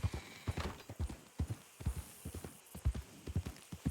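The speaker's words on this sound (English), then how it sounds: "Don't know why the horse just decided to steer off in that direction there." Horse hooves clip-clop steadily at a walk along a Wild West town street in a roleplay video game, a close, regular rhythm of soft thuds heard alone for several seconds.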